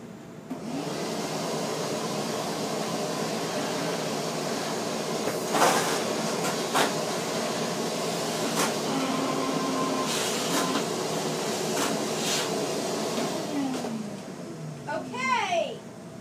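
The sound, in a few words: shop vacuum cleaner running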